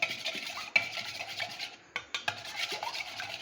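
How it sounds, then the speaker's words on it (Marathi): Egg seasoned with ground pepper and salt is whisked with a utensil in a bowl while making bread pakora, giving steady close scraping and tapping strokes with a few brief pauses. "हे अंडे असे फेटून घ्यायचे."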